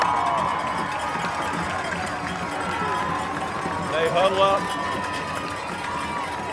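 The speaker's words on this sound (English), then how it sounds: "The crowd is as animated as I've seen them in a long time" Crowd noise at a high school football game between Trinity Crusaders and Bulloch Academy, a sustained roar of cheering and shouting from the stands that swells briefly, with a commentator talking over it.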